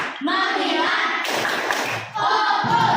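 Children clapping hands in a classroom clapping game, crisp bursts of claps mixed with young voices chanting in rhythm.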